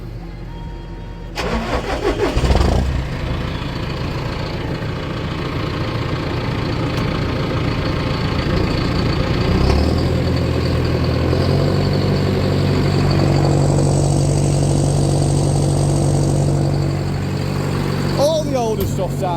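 A John Deere 6430 Premium tractor engine cranks and catches, then settles into a steady, loud idle that runs on, with people talking over it.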